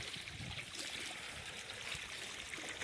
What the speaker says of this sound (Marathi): तिकडे जो पाईप सोडला होता का नाही, तो इथून लीक मारायला.